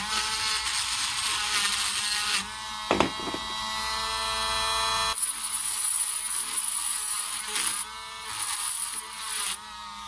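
Deburring holes on a 1975 Corvette Stingray: a high-pitched whirring tool grinds steadily, pausing briefly midway with a few knocks, then resumes with a tonal whine and fluctuating intensity.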